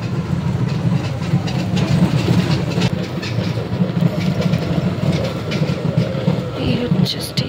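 At a railway station, a train rolls past with a loud, continuous low rumble and rattling clickety-clack of wagons. The sound stays steady and near throughout, with faint higher squeaks at the end.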